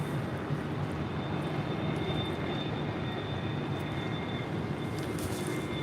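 A JetBlue Airbus A321 in from JFK lands at LAX with a loud, continuous jet engine roar and a thin high whine running through it, steady and close for the whole stretch, with no talking.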